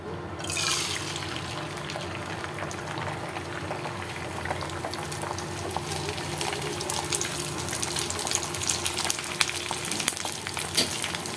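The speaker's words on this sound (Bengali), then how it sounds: "তাওয়াটি গরম হয়ে গিয়েছে এখন তেলটা ঢেলে দিলাম ডিমটা দিয়ে দিচ্ছি তাতে" An egg fries in oil on a hot griddle, with a loud burst as it goes in, then a steady crackling sizzle with bubbling pops growing slightly busier toward the end, close by and with no talk.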